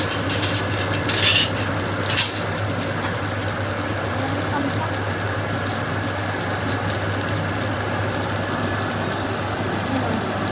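Cooked mackerel lifted out of a frying pan, heard as a few metal utensil scrapes and clinks early on over a constant low hum and faint sizzle, with no talking.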